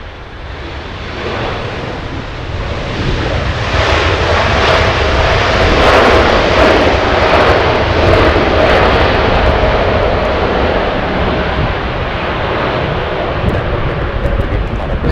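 Airliner jet engines roar at Los Angeles International Airport, a loud, sustained, broadband rush that swells over the first seconds and holds steady throughout with no talking.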